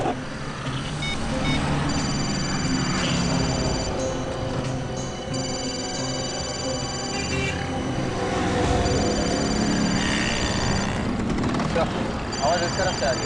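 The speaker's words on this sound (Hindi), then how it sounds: "फोन की घंटी अंदर ही बज रही है।" A mobile phone rings inside a parked car in repeated high-pitched tone bursts, muffled and moderately distant, while people talk over it.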